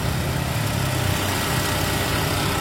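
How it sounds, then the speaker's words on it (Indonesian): A 2002 Kia Visto with a manual gearbox idles close by, its engine a smooth, steady low hum that runs evenly throughout with no voices. "mesin suaranya juga masih halus ya"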